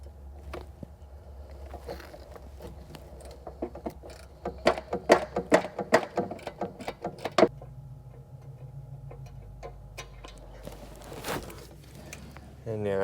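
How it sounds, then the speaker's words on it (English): A 10 mm ratcheting wrench turns bolts out during engine removal on a Chrysler Town & Country or Dodge Grand Caravan, giving bursts of quick, close metallic clicks and ticks amid shop background noise. "Taking a 10 millimeter ratcheting wrench and taking the bolts out that way."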